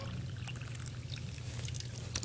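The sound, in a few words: pouring two cups of water over cranberry pudding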